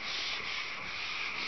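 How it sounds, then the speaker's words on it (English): Steady abrasive rubbing of wet 400-grit sandpaper on car paint, a continuous hand-sanding scrape with slight back-and-forth swells, close and even throughout. "And I start sanding all this grain out of this paint"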